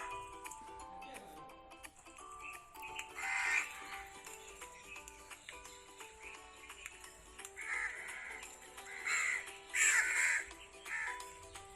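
Several harsh crow caws from the crow father of a crow family in an animated Hindi folk tale, coming in uneven bursts over steady background music.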